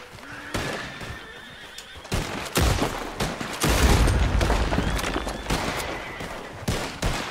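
Loud bursts of gunfire crack out during a shootout at MacFarlane's Ranch in a Western video game, mixed with a horse whinnying and clopping hooves, the volleys rising to a dense barrage midway.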